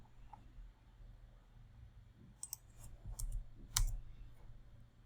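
Keystrokes on a computer keyboard, with an Enter key press, land as a few sharp clicks late in a quiet stretch, close and moderately loud.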